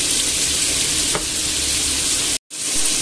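Garlic frying in a pan, a loud, steady sizzling crackle that runs without pause, broken only by one brief silent gap near the end.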